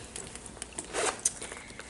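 A zipper runs along a pocket of a Miu Miu Madras side-zip leather bag in one short, raspy pull, with faint handling rustles before and after.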